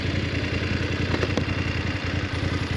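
A 2022 BMW F 750 GS motorcycle heads onto a highway with a Puig touring windscreen fitted, the engine drumming steadily and loudly alongside constant wind and road rush, with no talk over it.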